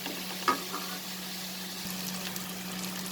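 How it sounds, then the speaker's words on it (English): Onions frying in a pan for a stuffed pointed gourd dish give off a soft, steady sizzle, fairly quiet and continuous, with one faint clink near the start. "We'll fry this till the onion becomes slightly cooked, slightly translucent."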